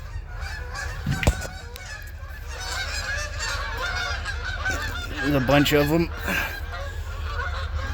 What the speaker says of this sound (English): Can also hear geese.